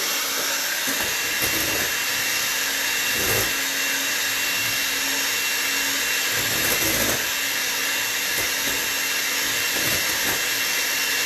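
A hand mixer whips egg whites toward stiff peaks for protein cookies, a steady close-up high motor whine running without pause, with faint bumps from the beaters against the bowl.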